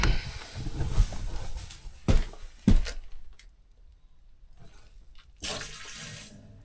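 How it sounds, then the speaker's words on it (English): Water rushing back into a freshly replumbed main house line after the supply is switched on, with a couple of sharp bursts and a sputtering surge, then a quieter hiss and a final strong gush. "We'll flip the water on and"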